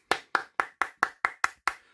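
A single person claps hands eight times at a steady, even pace, each clap sharp and close, with quiet between them and no talking.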